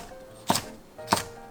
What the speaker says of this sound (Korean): 작은 양파 1개 정도, 대파 반뿌리 정도 썰어주세요.